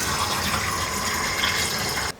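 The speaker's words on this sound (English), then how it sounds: "Now, we're going to fill it with hot water and detergent." Hot water mixed with dishwashing detergent gushes steadily into a minibike fuel tank, a loud, continuous rushing fill that stops abruptly just before the end.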